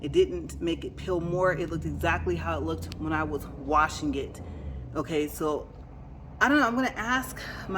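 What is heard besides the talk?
No everyday noise stands out behind the speech.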